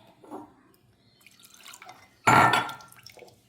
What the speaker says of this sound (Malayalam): വേണമെങ്കിൽ വെള്ളം ഒഴിച്ച് കൊടുക്കാം